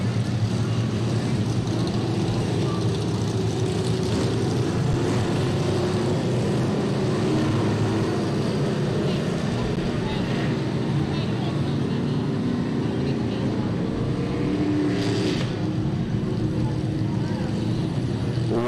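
Street stock race cars circle a dirt oval at Jacksonville Speedway under a yellow caution, producing a steady, continuous engine drone with a busy speedway background throughout.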